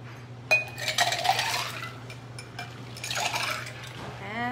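A pear bourbon smash cocktail with ginger beer being mixed with ice: a sharp clink, then bursts of rattling ice and liquid sloshing in a glass, with a steady low hum underneath.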